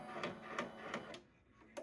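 A Babylock multi-needle embroidery machine with a magnetic frame starts up, giving a steady series of rhythmic mechanical clatters about every third of a second, close and moderately loud, briefly pausing before one more stitch.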